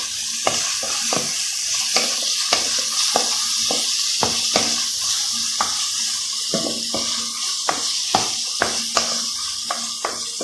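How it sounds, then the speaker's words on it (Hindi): Dal mash being stirred and fried in a pan, with a steady sizzle underneath repeated sharp scraping strokes of a spoon against the pan, close and fairly even in rhythm. "अच्छी तरह मिक्स करेंगे"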